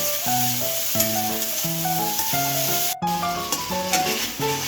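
Spice masala with a little sugar sizzles steadily in hot oil, a continuous close hiss with an abrupt momentary dropout partway through, under a tonal melodic line.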